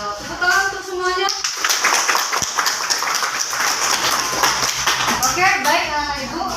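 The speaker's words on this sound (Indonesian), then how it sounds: "Tepuk tangan untuk semuanya." A classroom bursts into lively applause for several seconds, many hands clapping together, with children's voices talking just before and after.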